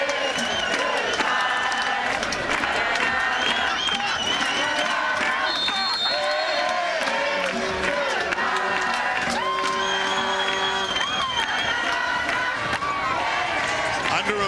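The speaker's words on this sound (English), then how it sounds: "So McMaster looking to 3-peat as their crowd sings." A big stadium crowd at a McMaster university football game sings and roars in a continuous dense wash of voices, steady and loud, with cheers rising over it throughout.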